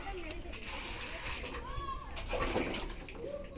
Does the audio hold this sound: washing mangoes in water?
yes